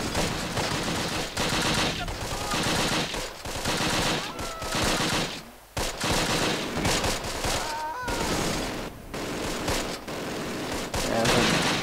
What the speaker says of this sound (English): There's a machine gun here somewhere.